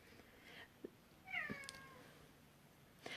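A big, fluffy Garfield-type cat gives one drawn-out, fairly faint meow indoors, with a few soft clicks and knocks around it and no talk.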